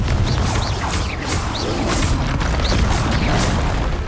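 Spell blasts from Incendio and Confringo in Hogwarts Legacy: a steady run of whooshing bursts and booming impacts, loud and close, one after another with no pause and no talk.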